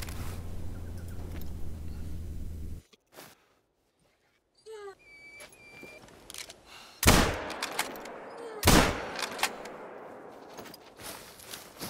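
Two sharp, loud rifle shots roughly a second and a half apart ring out in theHunter: Call of the Wild at Parque Fernando, each with a short echoing tail, amid outdoor ambience and faint bird calls.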